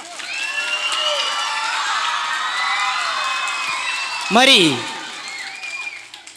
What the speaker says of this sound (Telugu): కొట్టండి గట్టిగా క్లాప్స్.